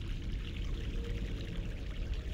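Fresh mountain water flows steadily in The Longest Journey video game, a continuous close rushing pour with no break and no talk over it.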